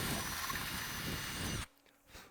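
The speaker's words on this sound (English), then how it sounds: "You're just going to have to run this drill" A power drill runs steadily at close range for about a second and a half while working on a rivet, then cuts off abruptly, leaving quiet room noise with a faint rise near the end.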